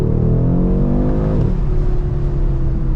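A 2022 Audi RS3 accelerates hard in its most aggressive drive setting, a loud close-up engine roar climbing in pitch and then dropping at a gear change before pulling again.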